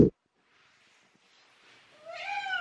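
A female cat gives a short meow near the end, its faint harmonic call following a brief bump of sound and a long near-silent stretch.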